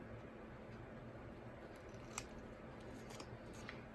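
Scissors cutting into a paper coin envelope, a few faint, quick snips against a quiet, close background.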